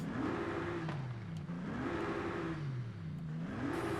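A powerful 7.7-litre V12 car engine in Forza Horizon revs repeatedly, pitch climbing and falling in smooth sweeps, a steady synthetic-sounding roar with no voices.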